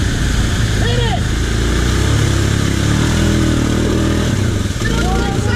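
A four-wheel-drive vehicle revs its engine while stuck in mud, a loud continuous engine roar with rising and falling pitch as people shout nearby.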